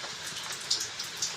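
Rain falls steadily on a house terrace as a dense, even hiss, with a few louder close drips landing near the end.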